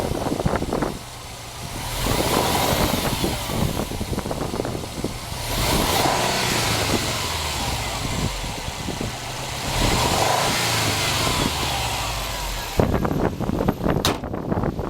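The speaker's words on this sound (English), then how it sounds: "this is the engine in action" A 2013 Subaru STI Limited engine idles and revs from outside the car, a continuous mid-pitched rumble with rising and falling swells, ending in a few sharper clatters.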